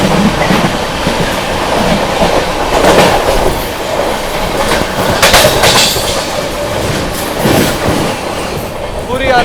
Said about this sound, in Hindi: सामने से आ रही है पुरी से चलकर आनंद विहार की ओर जाने वाली पुरुषोत्तम एक्सप्रेस